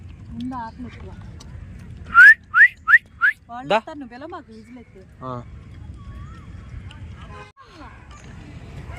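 Someone whistles to call dogs at feeding time: a quick run of five short, sharp rising whistles, loud and close, followed by voices talking over a low background hum.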